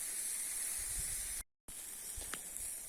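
Merguez sausages sizzle on a barbecue grill with a steady, close hiss that cuts out briefly, then resumes with faint crackles.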